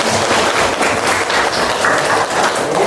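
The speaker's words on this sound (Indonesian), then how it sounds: "Tepuk tangan buat Aulia." A classroom of students applauds a classmate named Aulia, dense loud clapping from many hands close by, sustained evenly for the whole stretch with no talking.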